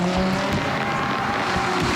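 GT race cars at the Spa 24 Hours endurance race roar past downhill in traffic, loud overlapping engine notes with shifting pitches, close and continuous.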